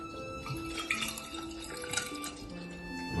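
Milk poured over kefir grains, about a litre, in a steady close liquid stream with faint splashes, and no voices.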